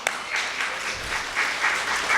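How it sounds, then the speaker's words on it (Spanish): A church congregation applauds together in steady, dense clapping that swells and eases in waves across the short stretch, close and loud with no speech over it. "un aplauso a las mujeres en esta mañana"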